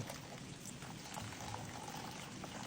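Water gushing quickly into a container, a continuous splashing pour that stays steady and moderately loud for the whole stretch, with no talk over it.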